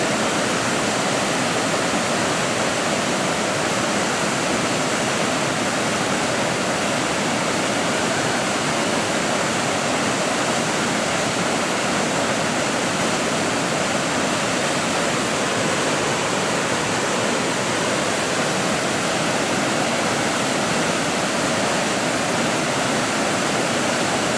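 Loud, constant roar of a waterfall in Iron County, a dense unbroken rush of falling water with no pauses, filling the whole stretch.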